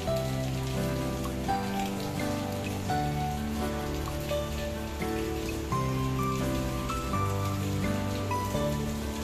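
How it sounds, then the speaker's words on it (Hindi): Dense, steady monsoon rainfall pours continuously in Gurugram, India, with drops drumming on surfaces nearby, loud and unbroken. "ये देखो सुबह से बारिश चल रही है"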